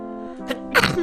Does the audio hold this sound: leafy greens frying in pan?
no